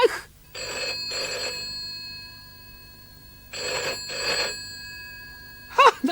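A telephone bell rings in two double-burst rings separated by a pause, fairly close and clear.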